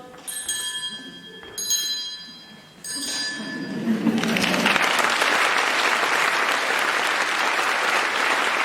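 Several triangles ring out in a group demonstration, bright metallic strikes sounding a few times before giving way to sustained applause from a crowd in a hall.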